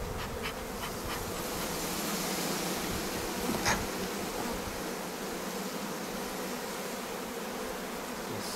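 Honeybees buzz steadily at an open hive, a continuous dense drone of many wings close by, with a faint tap partway through and no voices.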